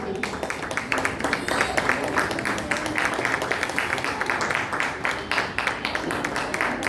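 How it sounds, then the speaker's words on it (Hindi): An audience at an Arya Samaj children's programme in Bangalore claps steadily and densely for a child performer, the rapid claps continuing without a break through the whole stretch, fairly close. "जोरदार तालियां बजती है।"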